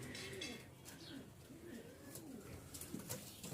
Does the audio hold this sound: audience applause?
no